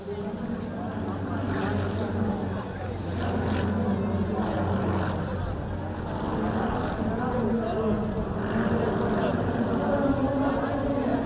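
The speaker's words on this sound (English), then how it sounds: "this Su-31 unlimited aerobatics plane" A Sukhoi Su-31 unlimited aerobatics plane performs at Romania's BIAS 2019 airshow, its propeller engine a steady, loud drone that runs the whole time beneath continuous talking.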